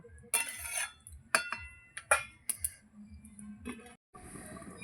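Metal lid clinking down onto a pot of fish curry made with katla fish, flat beans and potatoes, a few sharp close clinks and knocks in a quiet kitchen.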